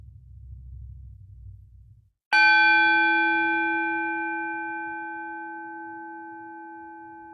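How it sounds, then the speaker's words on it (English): A single bell is struck once, ringing clearly and sustaining with a long, slowly fading tone after a quiet low rumble. "when you hear me ring that bell, pause and count backwards from 5"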